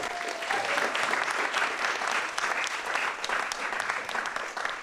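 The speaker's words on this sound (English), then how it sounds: "should we have a round of applause for Mellis as well?" An audience claps steadily and loudly for a few seconds, a dense, continuous burst of applause with no voices standing out.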